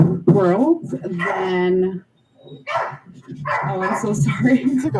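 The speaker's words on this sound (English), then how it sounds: "No, that was my dog." A pet dog barks and whimpers at home during a live radio conversation, with sharp, yelping bursts mixed in among a person talking up close.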